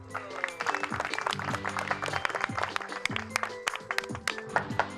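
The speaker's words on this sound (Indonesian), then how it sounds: "Tepuk tangannya dong" An audience at a birthday party claps together in dense, steady applause lasting several seconds, with a crowd murmur and bits of tonal music underneath.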